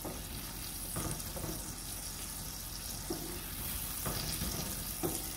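Onions softening in olive oil in a pan for a littleneck clam zuppa, giving a steady low sizzle with a few soft stirring knocks and scrapes throughout.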